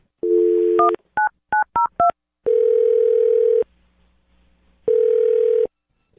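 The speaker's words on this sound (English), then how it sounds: "I'm going to dial his phone number right now" A telephone being dialed: a steady dial tone, then a quick run of five separate keypad touch-tones, followed by two more long stretches of steady tone with a short quiet gap between them. The sound is loud and clear, with no talking.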